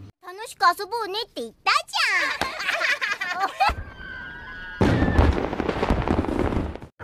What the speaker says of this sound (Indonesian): Kembang api muncul dan mewarnai langit yang gelap